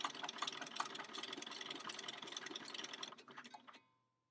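Bernina 5 Series sewing machine stitching a buttonhole at a moderately steady speed, a dense, continuous mechanical whir with rapid needle rhythm, close and steady for about three seconds before slowing and stopping.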